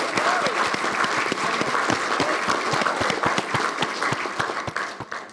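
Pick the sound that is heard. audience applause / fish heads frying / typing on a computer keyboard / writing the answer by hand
audience applause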